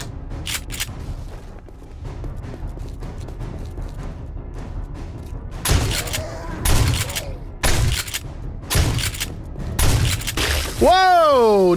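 Gunfire in the 7 Days to Die zombie survival game, a run of sharp loud shots in uneven bursts over a steady background rumble, ending in a swelling tonal sweep.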